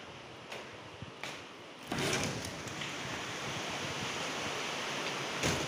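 Heavy monsoon rain in Uttarakhand, heard from a rooftop, comes down as a dense, steady hiss that grows suddenly louder after a few quieter moments with faint knocks, then holds loud and even to the end.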